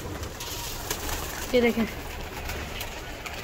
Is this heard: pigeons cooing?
yes